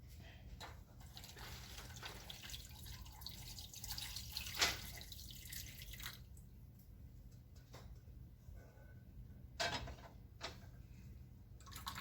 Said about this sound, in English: Let's pour some of this in here.